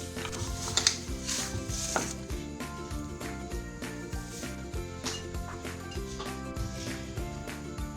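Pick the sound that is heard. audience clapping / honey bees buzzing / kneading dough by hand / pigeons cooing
kneading dough by hand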